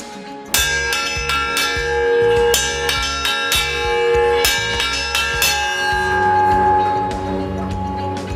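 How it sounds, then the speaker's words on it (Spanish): A church bell in a town in Manabí, Ecuador, rings loudly and close, with repeated clanging strikes that overlap and leave long ringing tones between them. "en una iglesia es la campana que despierta a los habitantes del pueblo"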